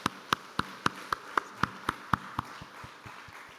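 A church congregation at a Sunday service claps in unison to encourage children, giving a steady series of crisp, evenly spaced claps that fade toward the end.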